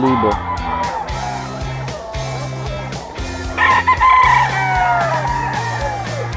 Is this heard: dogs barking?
no